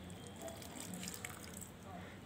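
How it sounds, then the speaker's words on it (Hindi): Water poured onto the soil around a potted rose plant, a steady soft splashing and trickling running through the whole moment, fairly close, with faint background noise. "तो अब हम इसमें वाटरिंग करेंगे"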